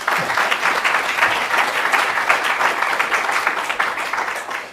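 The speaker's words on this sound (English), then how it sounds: "Give him a round of applause, please." Sustained applause from a lecture audience welcoming the lecturer at a university ethics lecture, a dense steady wash of many hands clapping with no gaps.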